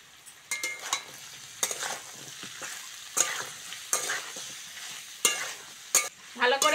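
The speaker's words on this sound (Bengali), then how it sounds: "ভালো করে কষে নেব।" Spices, tomato and cabbage with other vegetables stir-fried in a pan: a soft steady sizzle broken by repeated scraping strokes of a spoon, close by, with no talking.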